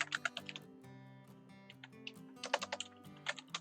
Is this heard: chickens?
no